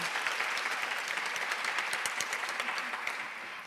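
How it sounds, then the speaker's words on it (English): Conference audience giving a round of applause at a women and China event, a steady, full crowd of clapping hands throughout, tapering slightly toward the end. "Everybody give a round of applause."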